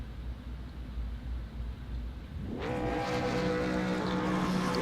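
Engines of V8 Supercars race cars revving on the grid before the start of an Americas Series race at Virginia International Raceway, a low rumble that swells into a loud, dense, sustained roar of several engines.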